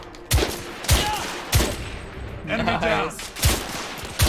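Auto rifle fire in The Order: 1886 video game: several loud, sharp bursts of shots at irregular intervals, close and punchy, with a player's voice briefly talking between them.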